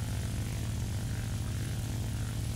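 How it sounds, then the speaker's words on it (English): Propeller airplane engine in a World War era combat video game, a steady low droning hum with dense rumbling harmonics, continuous and fairly loud throughout with no talking. "Oh, we're in a plane."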